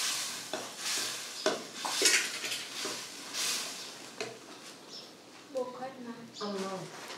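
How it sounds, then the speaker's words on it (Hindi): Onions going into a pan for Rajasthani Marwari kadhi, sizzling as they are stirred with repeated scraping strokes against the pan, close and fairly loud, with a voice talking partway through. "अब इसमें प्याज ऐड करेंगे हम।"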